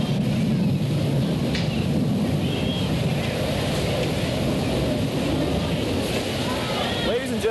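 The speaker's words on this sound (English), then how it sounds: "Let's watch as Lieutenant Commander Clark rolls the aircraft upside down to establish the inverted position." An F-14 Tomcat jet at a 1987 Moffett airshow, flying an inverted pass, gives a steady, loud, broad roar throughout, with wind buffeting the microphone and no break in the sound.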